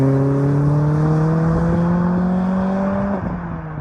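A Renault Clio 197 RS heard from inside while driving, its engine droning steadily with a rising harmonic whine under acceleration, then easing off toward the end; no talking.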